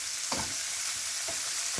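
Shrimp frying in a pan, a close, continuous sizzle with a few soft scrapes as the pieces are turned.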